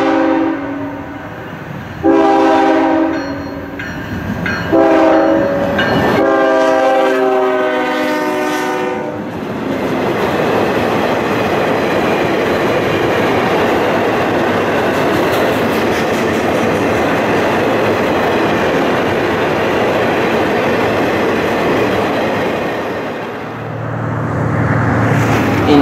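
Train horn blasts in several bursts, then two General Electric Evolution Series locomotives hauling a CN train rumble past loudly with steady engine roar and rolling wheels, fading slightly near the end.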